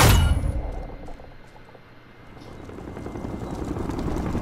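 An enemy helicopter destroyed in the Warzone video game, heard as a heavy crashing burst at the start, then a loud rumbling, rotor-like roar with metallic clangs that fades and builds again.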